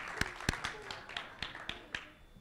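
A few people clap at a line-following robot competition, sparse slow claps close by while a voice talks faintly underneath.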